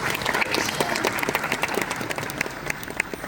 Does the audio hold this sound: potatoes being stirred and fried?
no